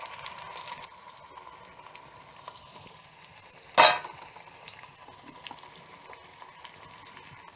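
Bottle gourd (dudhi) bajas deep-fry in hot oil with a steady, soft sizzle, broken once midway by a brief clatter of a utensil.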